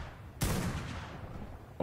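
A single gunshot from ARK: Survival Evolved, aimed at a creature, bursts out sharply and decays into a rumbling tail, with a second shot just starting at the end.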